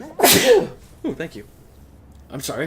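A single loud, close sneeze bursts out at the start, followed by a person speaking briefly and apologetically.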